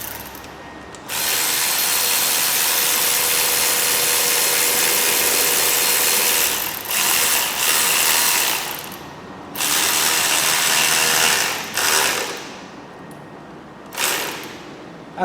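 A power tool ratchets an adjuster bolt tight on a Toyota Auris engine after the alternator is pulled back during a water pump replacement, giving a long steady whirring burst followed by several shorter bursts with brief pauses.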